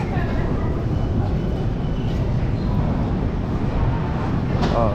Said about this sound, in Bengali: ওই যে আমার ট্রেন দাঁড়ায় আছে M2